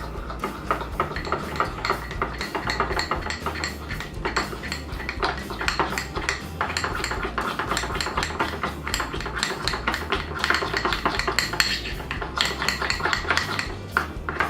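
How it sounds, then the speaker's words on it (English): A spoon clinks and scrapes steadily inside a bowl as powdered sugar, cocoa powder and milk are stirred into a thick paste, giving a busy, repetitive clatter with no voices. "you're just gonna mix it up until it becomes a thick paste"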